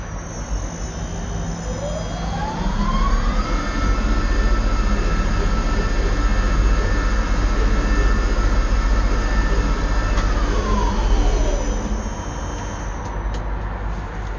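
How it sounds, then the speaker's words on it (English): A tower crane hoist motor starts and ramps up to full speed, its whine rising, holding a steady high pitch, then winding back down over a constant mechanical drone. "start it up, brake releases, VF starts up, and full speed up"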